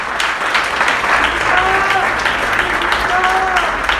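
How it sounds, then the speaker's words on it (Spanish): A church congregation applauds during a Spanish-language Christian sermon, a dense wash of clapping filling the room while a voice speaks over it. "Si va a aplaudir, aplauda en esta mañana."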